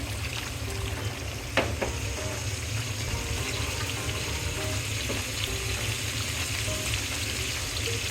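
Pabda river fish curry simmers and bubbles after water is added for the gravy, a steady close frying hiss with watery bubbling and an occasional clink of a utensil.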